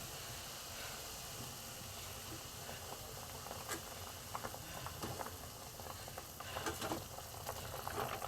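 A thick pumpkin kofta curry gravy simmers and bubbles steadily in a pan over a gas flame, a soft continuous hiss with occasional pops and plops, fairly quiet and close.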